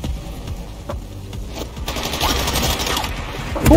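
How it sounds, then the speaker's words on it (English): Gunfire in the video game Sniper Ghost Warrior Contracts 2, with rapid overlapping shots and bursts that build toward a louder blast at the end, dense and continuous. "They're shooting me, man, but from where?"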